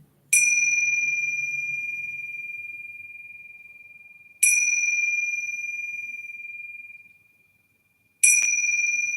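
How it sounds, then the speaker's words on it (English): A bell rings three times, each strike clear and bright with a long sustained ring that slowly fades, spaced about four seconds apart during a quiet relaxation class. "But these are the bells."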